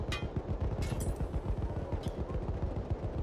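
Rapid gunfire in Battlefield 1 rattles toward the player in quick repeated bursts, a fast, fairly close stream of shots with a few sharper cracks on top.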